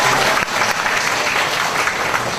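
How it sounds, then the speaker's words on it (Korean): A church congregation claps to welcome visiting middle school students at a Sunday service, a loud, full burst of applause filling the hall from start to finish. "환영의 박수 한번 부탁드립니다."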